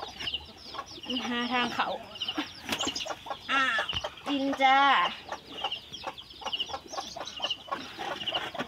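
Farm chickens cluck repeatedly with a few louder squawking calls, heard close by while people talk in Thai.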